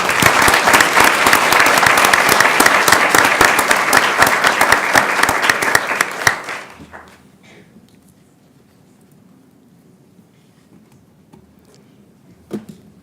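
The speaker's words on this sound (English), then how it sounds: "let's give them a big round of applause" Audience at a school board meeting giving a round of applause, loud dense clapping for about six seconds that stops abruptly, leaving a quiet room with faint murmurs and a single later knock.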